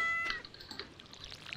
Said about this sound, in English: Wonderful, wonderful cat.